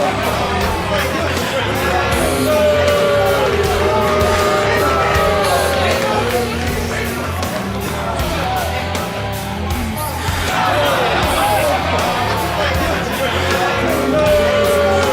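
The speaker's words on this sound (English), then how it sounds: "Listen to the parade of boos from this Sacramento crowd to Nick Black." Sacramento crowd at a Nick Black versus Mike Storm wrestling match, loud sustained booing and jeering with yells swelling and dipping throughout.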